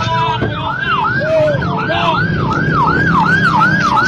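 A wailing ambulance siren in Bogor, Indonesia sweeps up and down in steady repeated cycles, loud and close over traffic rumble, with a second siren tone faintly beneath.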